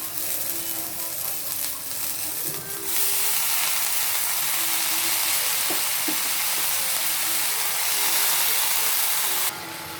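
Pirandai greens and tomato sauté in a kadai with a steady, close hiss and sizzle throughout, and a few faint clicks of stirring midway.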